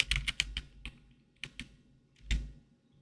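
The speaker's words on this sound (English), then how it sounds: "Can you guys hear how clicky it is? It is a little bit loud, but it is not as typewriter-ish." Fingers strike a clicky keyboard up close, a burst of quick sharp key clacks followed by scattered single presses and a final louder tap, with no voice over them.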